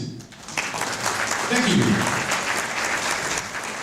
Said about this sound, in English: Clap for the CBDCs.